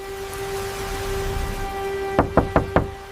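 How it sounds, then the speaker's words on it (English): Four evenly spaced, firm knocks on a wooden door, loud and close, over a steady background hum with rain-like hiss and no talk. "One ordinary knock was about to change everything he thought he knew."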